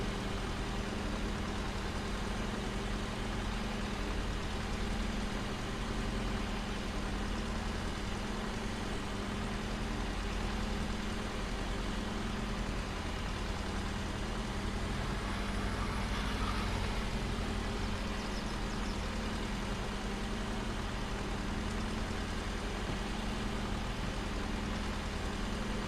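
A vehicle engine runs steadily in Farming Simulator 22, a constant low idling rumble that stays even throughout, with no talk.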